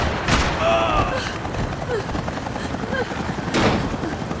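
In the Max Payne 3 video game, gunfire aimed at a helicopter comes as bursts of shots and heavy bangs, the loudest near the start and again later, over a rumbling drone with voices shouting.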